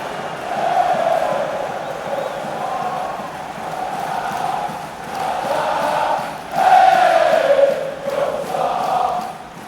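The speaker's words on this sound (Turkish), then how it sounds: "Zaha'ya tezahüratlar var Galatasaray taraftarından." A large video-game football crowd of Galatasaray fans chants and roars continuously, a sustained wall of voices with rising swells, heard from a distance like a stadium.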